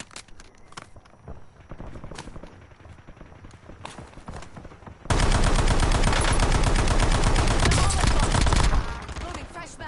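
Gunfire in a PS4 shooter game, scattered shots and clicks at first, then a dense, loud burst of sustained automatic fire for several seconds before easing off.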